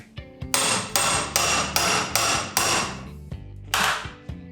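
Loud, sharp hammer blows striking a manual impact driver, about seven in steady rhythm, each with a ringing metallic decay, close up.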